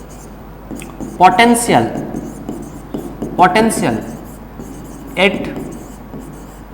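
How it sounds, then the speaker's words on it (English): A pen scratches across paper in three short bursts of writing strokes during a physics lesson, close and clear, spaced between and under a teacher's spoken explanation. "Now another point I can write here."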